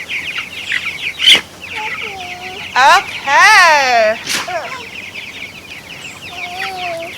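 Several chickens cluck and squawk close by, with rising, wavering calls and short bursts, and a person briefly speaks amid them.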